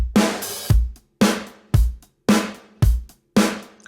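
A dry snare drum played without any chamber sample, struck in a steady run of about seven hits with short, clean decays between them.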